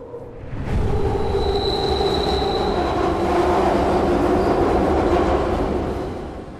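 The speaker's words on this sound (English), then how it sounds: "Still actively a train here." A train rolls past in the video game Beyond Hanwell: a steady, loud rumble of wheels on rail with a faint high squeal. It swells in quickly, holds for several seconds, then begins to fade toward the end.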